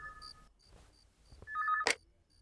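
A telephone rings indoors as short repeated electronic trill bursts with gaps between them, followed by a sharp clack, fairly quiet and without talk.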